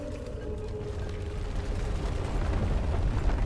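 Incoming meteor in the video game Deep Rock Galactic: a dense, roaring rumble with crackling noise, steady and loud, building slightly over a few seconds with no talking.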